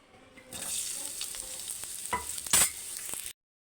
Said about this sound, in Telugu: ఆయిల్ అయితే హీట్ ఎక్కిపోయిందండి దీనిలో నేనైతే ఆనియన్స్ వేస్తున్నాను